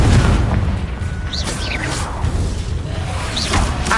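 Blasting spell cast in Hogwarts Legacy, a booming burst with whooshing swishes and rumbling low thuds over dense game noise, some voice underneath.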